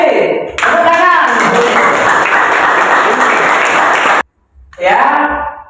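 A classroom of students claps together in a dense, steady burst of applause lasting about four seconds, mixed with some voices, before a teacher's voice resumes speaking.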